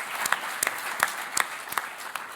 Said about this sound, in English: Might as well give him a round of applause